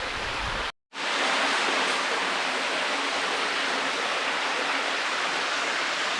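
A waterfall at Zebra Rock Cascades in the Wichita Mountains pours over rocks beneath boulders, a steady loud hiss of rushing water cut by one brief dropout near the start.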